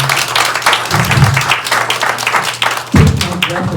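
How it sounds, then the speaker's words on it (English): An audience at a closing event gives a sustained round of applause, dense clapping close and loud throughout, with a low hum underneath. "Let's give a round of applause for all of those endorsements."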